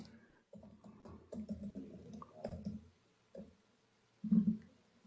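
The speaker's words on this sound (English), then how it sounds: "Y'all can see how bad I am typing" Someone types on a keyboard during a committee meeting, with irregular bursts of close clicking keystrokes separated by short pauses and no talk.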